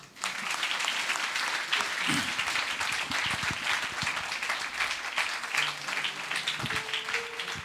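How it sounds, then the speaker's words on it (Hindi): A church congregation claps steadily throughout, a sustained round of applause from a sizable crowd at moderate distance with no talking over it. "मुझे लगा आप लोग ताली बजाएंगे।"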